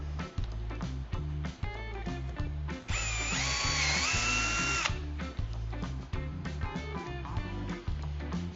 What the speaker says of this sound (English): we're gonna pre-drill.